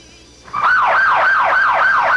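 Ambulance siren, loud and close, a fast wailing yelp repeating about every third of a second after a brief quieter start.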